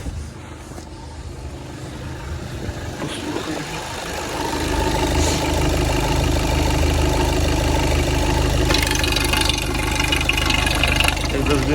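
A cold Skoda Octavia TDI diesel with DSG gearbox, 131,621 km, idles with a steady low rumble that grows louder and fuller partway through, running evenly without talk.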